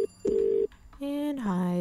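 Phone call tones in the video game The Cat Lady: a short beep, a longer steady tone, then a wavering electronic ringing that continues loud and close to the end.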